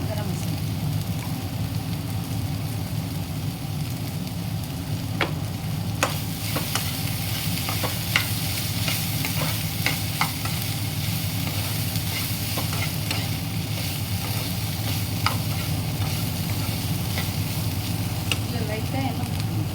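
Raw banana sautéed with spices in hot oil, producing a steady, dense sizzle and frying hiss punctuated by scattered clicks of the utensil against the pan.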